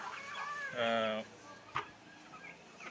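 Native spotted hens in a poultry parent stock flock give a short, clear burst of clucking midway, over a low background hum with faint ambient noise.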